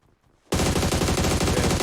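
Automatic gunfire in a shooter video game bursts in suddenly after a half-second of near silence, then continues as a loud, rapid, continuous stream of shots without any talking.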